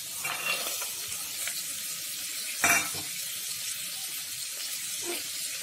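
Steady sizzling of vegetables frying in oil in a pan for white kurma, with a brief louder clatter midway as they are stirred.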